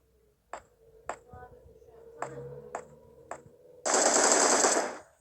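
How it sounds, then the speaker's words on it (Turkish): Video game gunfire: several sharp single shots spaced about a second apart, then a loud sustained automatic burst lasting over a second, all close and prominent. "Biri sıkıyor bize. Nereden sıkıyor?"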